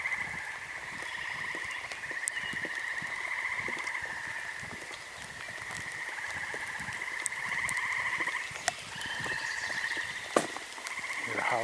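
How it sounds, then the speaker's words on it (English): A dense chorus of frogs croaks and trills continuously along a wooded trail on a spring tour. The layered, buzzing calls are steady and surrounding, with a few sharper pops standing out. "Yes, I can hear things above all the frogs."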